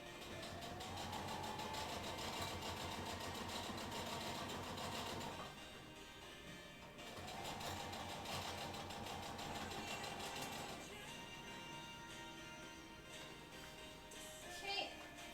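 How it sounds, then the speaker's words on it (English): A sewing machine stitching through EVA foam while making a cosplay costume hums in a steady, fast mechanical drone, pausing briefly and then starting again, quiet and close. "and then sewing back through the EVA foam."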